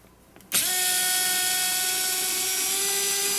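A 3.6V cordless screwdriver starts up after a brief quiet moment and runs in reverse to loosen a bolt, giving a steady, close, high motor whine with no talking.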